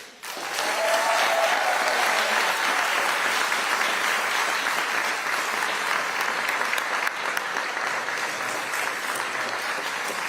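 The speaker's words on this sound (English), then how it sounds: "Give another round of of applause" A large audience at a city State of the City address applauds, a dense sustained wash of clapping that begins abruptly and holds steady for the full stretch, with no voices breaking through.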